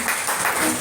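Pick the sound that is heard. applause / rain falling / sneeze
applause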